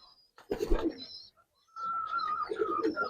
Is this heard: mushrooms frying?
no